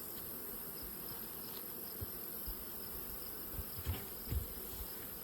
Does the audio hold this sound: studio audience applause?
no